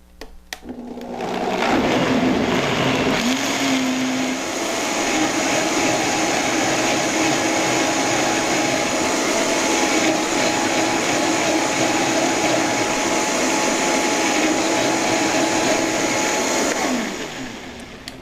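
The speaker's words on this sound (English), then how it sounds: "I like to blend mine till it's pretty smooth" Vitamix blender running steadily while blending creamy corn soup until smooth, a loud continuous motor whir with a slight pitch shift near the start, then winding down at the end.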